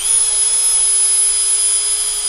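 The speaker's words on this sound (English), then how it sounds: "what we're going to use next is a little felt polishing wheel on a Dremel" A Dremel rotary tool spins a felt polishing wheel to polish lock picks, making a continuous high, steady whine close up.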